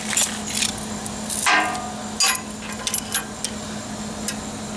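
Metal panel being hammered against a Jeep Wrangler YJ frame for rust repair, a few sharp, bright clanking strikes spaced irregularly over a low steady hum, fairly close and moderately loud.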